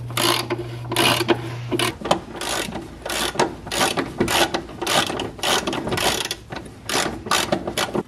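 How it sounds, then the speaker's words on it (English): A ratchet wrench cracks loose 17mm bolts on a Mazdaspeed 3 rear suspension, loud close bursts of rapid clicking repeated many times with short pauses between strokes. "17mm bolt, crack those loose."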